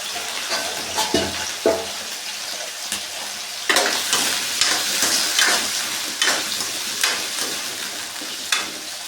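Potatoes frying in a pan for Mandya-style egg sambar, a close crackling sizzle broken by repeated spatula scrapes and stirring knocks at an uneven rhythm.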